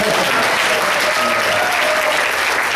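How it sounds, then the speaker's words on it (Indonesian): Audience applause at a church gathering with pastors present, a dense, loud, steady wash of clapping that fills the whole stretch with no break. "Tepuk tangan."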